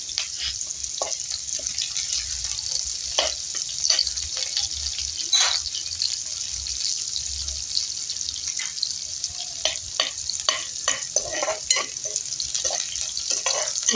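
Chana dal and onion frying in oil over a wood-fired stove, a steady soft sizzle with scattered crackles and stirring scrapes throughout.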